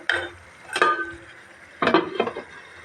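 Beef with bottle gourd and chana dal is stirred and sautéed in a cooking pot, giving three separate bursts of spoon scraping and metallic clinks against the pot, close and fairly loud, with quiet pauses between.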